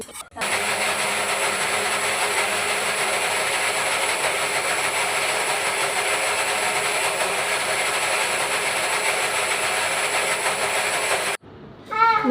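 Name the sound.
mixer grinder grinding soaked rice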